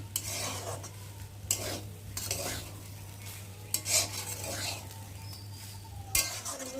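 Cooked rice frying and being stirred in a pan, with soft sizzling, scraping and occasional metallic clinks of a spoon over a steady low hum.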